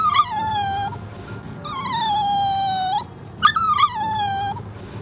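A dog whimpers in three long, high whining cries, each sliding down in pitch, close by over a low background rumble.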